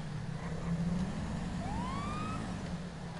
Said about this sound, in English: So I got a police car now.